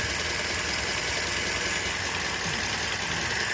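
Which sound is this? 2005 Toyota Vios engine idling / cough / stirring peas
2005 Toyota Vios engine idling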